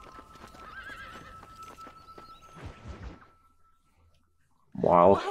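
Wild horses in the Red Dead Redemption video game whinny with clip-clopping hooves amid game ambience and brief talk, ending in a loud, close neigh burst.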